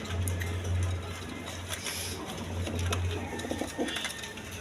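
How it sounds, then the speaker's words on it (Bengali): A pair of Field Beg pigeons coo in low, repeated rumbling phrases close by, with soft rustling and faint background noise between the calls. "এখানে এক পেয়ার ফিল্ডবেগ কবুতর আছে"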